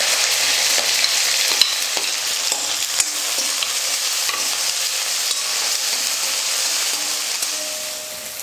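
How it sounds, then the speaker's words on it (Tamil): Sliced onions and curry leaves frying in a pan for mango and brinjal kara kuzhambu, a steady bright sizzle with occasional stirring clicks, close and continuous, no talk. "பெரிய வெங்காயம் 2 வெங்காயம் நீல வாக்கில் கட் பண்ணி எடுத்துக்கிறேன், அதை சேர்த்துக்கிறேன்."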